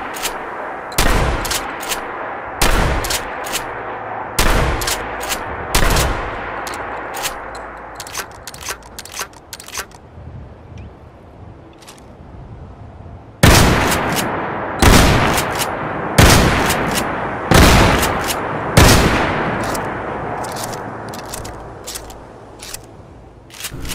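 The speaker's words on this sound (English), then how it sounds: "first let's see how both of these shotguns fire" A hunting shotgun and an Ithaca shotgun fire in Fallout 4, sharp loud booms in spaced single shots with brief echoing tails, then quieter mechanical clicks and pumping between volleys, no voices.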